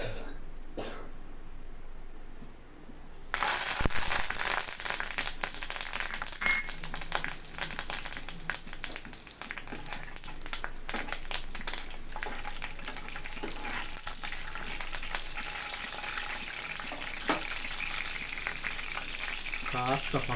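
Cumin seeds hitting hot oil in a pan, a quiet hiss that abruptly bursts into loud dense crackling sizzle and keeps spattering steadily to the end.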